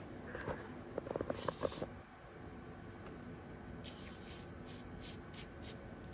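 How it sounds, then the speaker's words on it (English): Short bursts of aerosol spray hiss close by onto a bus's electrical terminals, a few quick sprays followed by several brief puffs, with faint handling clatter between. "Spray a little of this on there,"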